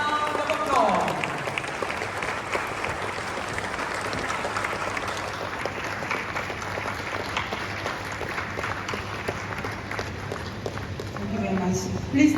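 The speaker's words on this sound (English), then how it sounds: "Ladies and gentlemen, a resounding round of applause." Audience applause fills a large hall at a diaspora summit in Ghana, a steady dense wash of clapping sustained throughout with crowd noise underneath, swelling slightly at the end.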